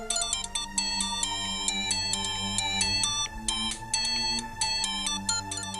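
A phone ringtone plays a steady melodic tune of bright repeating tones over a sustained background, an incoming call from the father, loud and uninterrupted with no talking.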